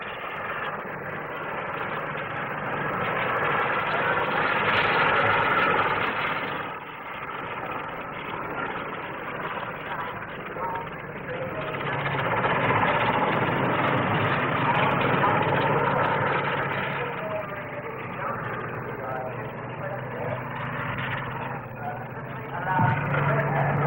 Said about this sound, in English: The fascinating Fairey ultralight helicopter with pressure jet units at the tips of the two-bladed rotor.